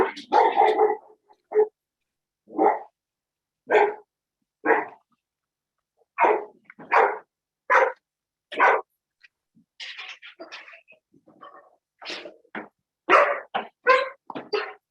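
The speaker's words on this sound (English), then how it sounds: "My very well behaved guide dog." A guide dog barks repeatedly indoors, loud and close: a string of sharp single barks at irregular intervals, with some softer yips and whimpers between them and no talking.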